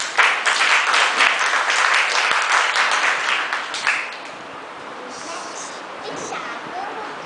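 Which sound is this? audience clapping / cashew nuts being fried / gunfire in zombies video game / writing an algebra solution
audience clapping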